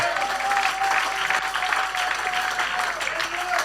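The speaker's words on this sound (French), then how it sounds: "Applaudissez le Seigneur." An Easter Sunday evening church congregation applauds steadily for a few seconds, with a faint sustained tone and crowd noise underneath.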